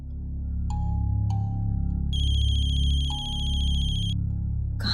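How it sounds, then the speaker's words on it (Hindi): A mobile phone rings with electronic tones: short beeps, then a bright sustained warbling ring that cuts off, heard over a low steady hum. "मम्मा फोन की आवाज तो यही कहीं से आ रही है।"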